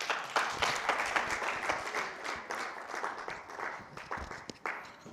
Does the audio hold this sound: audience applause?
yes